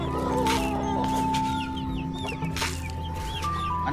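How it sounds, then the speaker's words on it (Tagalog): Chickens and chicks cluck and peep busily through wet feeding time on a backyard poultry farm, with continuous overlapping calls close by and steady hen clucks beneath higher chick chirps. "Tangan na, grabe, nagkakagawan din yung mga sisiw."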